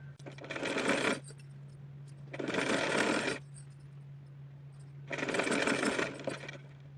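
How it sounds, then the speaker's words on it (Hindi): A sewing machine stitches a fabric strip for a dress in three bursts of rapid mechanical whirring, close and steady, separated by short pauses with a low electrical hum underneath. "तो चलिए सिलती हूँ मैं इसको।"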